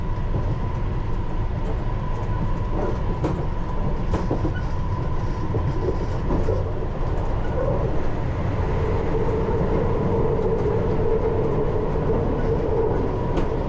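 A London Underground Piccadilly Line 1973 stock train runs through a short tunnel section toward Southgate, a steady loud rumble and roar with faint rhythmic clatter and a rising metallic whine from the wheels.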